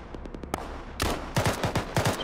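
Rifle gunfire in the military shooter Arma: a quick burst of faint, distant shots, then a sharp close crack and a run of louder, evenly spaced rounds, with no talking.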